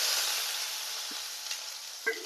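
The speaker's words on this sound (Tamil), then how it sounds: "நல்லா வதக்கி விட்டுக்கலாம் ஃப்ரெண்ட்ஸ்." Onion and garlic sauté in hot oil for kara kuzhambu with a continuous close sizzle, broken by a couple of light scraping clinks from stirring.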